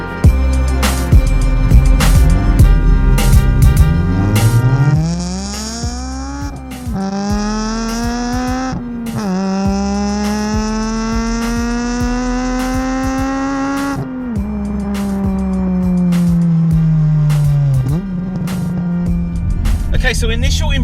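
Honda Civic FD2 Type R with a naturally aspirated K20A engine driving on a country road, the engine loud and close as it climbs through the revs in several pulls, with gear changes and drops between them.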